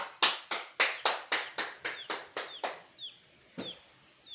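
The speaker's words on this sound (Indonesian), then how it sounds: "berikan aplaus untuk kelompok 2" Classroom applause for a student group: about ten crisp, evenly spaced claps that fade, followed by a couple of scattered final claps.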